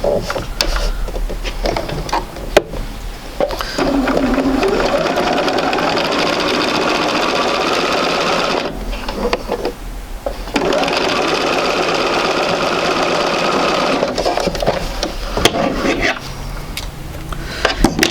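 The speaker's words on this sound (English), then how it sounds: "go ahead and sew this one" Sewing machine stitching quilt block fabric pieces, a loud steady mechanical whir running close and continuous, briefly pausing twice before resuming.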